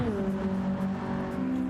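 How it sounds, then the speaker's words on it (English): A Toyota race car engine in a racing video game at Deep Forest Raceway, a steady droning, rumbling note held loud and close with slight pitch drift and no break. "That car sounds amazing. These Toyotas have always sounded so good."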